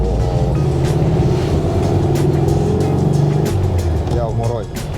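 A rusty, roughly sixty-year-old Volkswagen Type 3 Notchback sedan pulls away and drives off with a loud, close engine rumble, as people talk over the motor.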